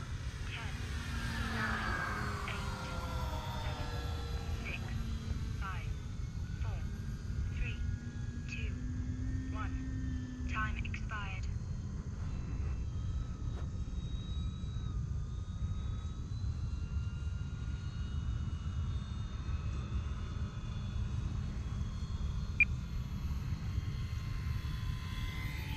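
An E-Flite Clipped Wing Cub model airplane flies overhead, its small electric motor a thin whine that rises and falls as it passes, faint against steady outdoor wind noise, with a person speaking at times.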